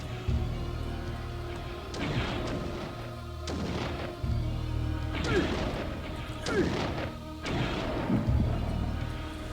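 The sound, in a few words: shooting in the video game Blood Omen: Legacy of Kain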